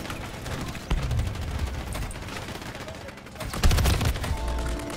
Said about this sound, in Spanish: se volteó tantito y me vio y me empezó a dispararlo